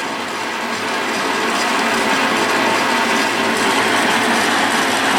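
A Weiss WBL290F metal lathe cutting threads fills the clip with a loud, steady mechanical whir and a gear-like rattle. The noise is continuous from start to finish, and no voices are heard.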